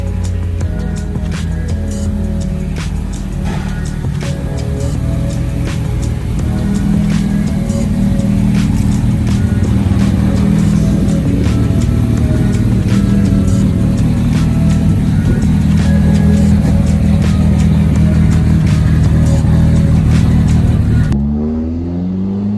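A turbocharged Evo 9 on flex fuel tuning pulls hard and loud, its engine droning and rising steadily for about twenty seconds before cutting off abruptly.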